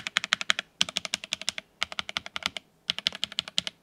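Arrow keys clack on a Redragon K631 Castor Pro SE, a budget hot-swap RGB gaming keyboard, in three quick bursts of rapid, crisp presses separated by short pauses, close up and with no talking.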